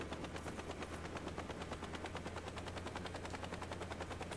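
A helicopter in the video game Saints Row thrums steadily with a fast, rhythmic rotor chop and low engine drone, loud and continuous throughout with no talk.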